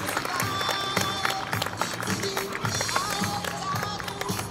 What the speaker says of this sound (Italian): Quindi un applauso vi chiedo perché campionessa del mondo squadra